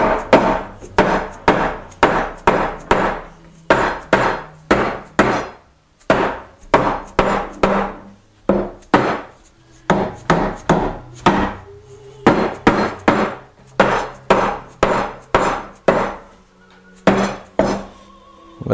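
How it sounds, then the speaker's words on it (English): Wooden side panels of a Chapin highchest lower case, with tenons, are dry fitted together, making a close series of sharp wooden knocks in quick rhythmic bursts separated by short pauses, with no speech. "So I'm dry fitting the sides."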